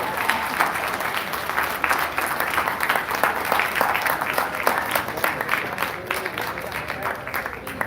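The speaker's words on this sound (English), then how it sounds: "A final round of applause." A crowd gives a final round of applause at the close of a Libertarian presidential debate, dense, lively clapping with distinct individual claps, sustained and fairly loud throughout.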